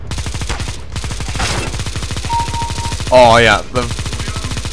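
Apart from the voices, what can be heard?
machine gun fire in video game Counter-Strike: Global Offensive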